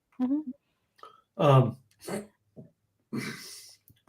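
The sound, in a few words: hiccups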